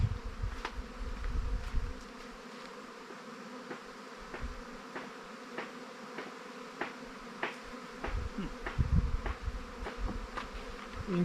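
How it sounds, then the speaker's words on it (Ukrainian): Many honeybees buzzing nearby on orientation flights at an apiary, a dense continuous drone with individual bees whizzing past, occasional soft knocks, no speech. "Щось дуже бджоли облітались."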